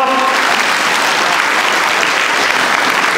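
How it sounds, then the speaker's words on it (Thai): Loud, close crowd applause for Thailand's Ministry of Labour during a minister's visit with fishing-boat operators in Samut Sakhon, dense continuous clapping at full strength from start to finish. "ท่านปรบมือให้กับกระทรวงแรงงาน"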